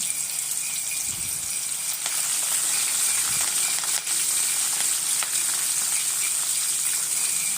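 Chopped onions and curry leaves frying in hot oil for brinjal masala, a steady close sizzle with a few light clinks of a spoon against the pan, with no voices.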